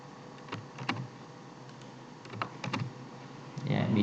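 Keyboard keys clicking in a few quick, light bursts while someone copies and pastes in Google Sheets using Ctrl C and Ctrl V, close and quiet.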